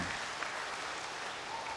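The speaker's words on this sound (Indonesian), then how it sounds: "Tepuk tangan dulu buat semuanya." Audience applause fills the room, a steady dense wash of clapping from a crowd at an Indonesian lecture, loud and continuous throughout.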